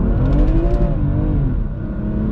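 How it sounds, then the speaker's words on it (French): A BMW M2 Competition with 410 hp, driven at full throttle in sport mode, gives a loud, continuous engine roar that climbs steadily in pitch, close-up and alone. "Par exemple là j'accélère à fond."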